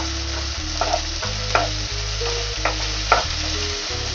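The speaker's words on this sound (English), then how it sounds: "let's put some tomatoes, 2 medium tomatoes I have chopped it, and let's fry it for some minutes" Two chopped medium tomatoes fry in a pan, a loud, continuous sizzle broken by a few scraping stirs and light clinks of a spoon.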